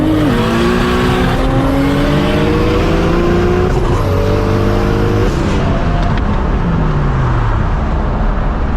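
A loud Mk4 Toyota Supra engine revs hard, its pitch climbing through several quick gear changes before easing off as the car coasts away.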